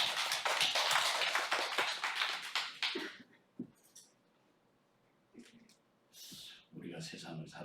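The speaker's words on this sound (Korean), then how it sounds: "우리 하나님께 영광의 박수하겠습니다" Church congregation breaking into applause, a dense loud burst of clapping for about three seconds that fades out, followed by scattered taps and brief voices.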